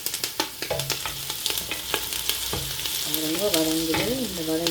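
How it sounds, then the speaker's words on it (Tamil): Onions and curry leaves frying in oil for a mutton curry, a steady loud sizzle broken by sharp scraping stirs, with the crackle and hiss building toward the end. "இப்போ வெங்காயம், கருவேப்பிலை எல்லாம் போட்டு வதங்குறோங்கோ."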